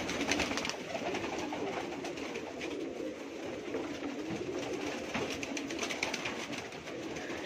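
A flock of pigeons coos steadily and continuously, with fluttering wing sounds mixed in, fairly close and loud, no voices.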